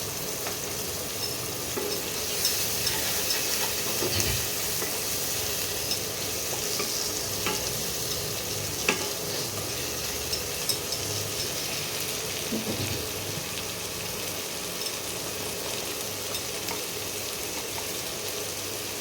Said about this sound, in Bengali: আপনাকে ভালো করে মশলাটাকে কষাতে হবে যতক্ষণ না মশলা থেকে তেল ছাড়ে